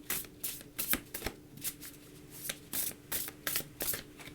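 Oracle cards are shuffled by hand in quick bursts, a series of close riffling, flapping strokes separated by brief pauses, quiet and with no talking.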